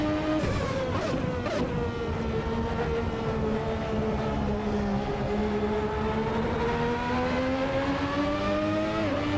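A 3.5-liter V12 engine of a Ferrari 643 racing car in a video game hums steadily at a held pitch, its tone dipping and rising slightly as it warms, loud and continuous with no talk.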